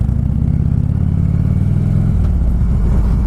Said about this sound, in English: Give my bike a proper good sound. Still got that very, very deep bass.